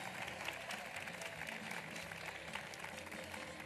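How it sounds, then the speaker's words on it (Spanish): Audience applause for drag and acrobatic performers at a drag queen gala in Telde, a continuous, dense crowd clapping heard faintly and at a distance throughout. "Así que un fuerte aplauso"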